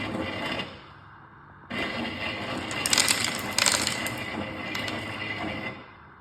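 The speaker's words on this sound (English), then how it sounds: "The motor drives a 3D printed Archimedes screw that dispenses M&Ms from a hopper" A stepper motor turns a 3D printed Archimedes screw that carries M&Ms out of a hopper, giving a steady mechanical whir with rattling, crunching bursts as the candies tumble and drop, close and alone.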